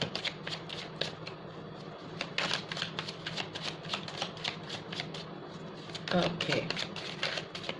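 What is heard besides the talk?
shuffling a deck of tarot cards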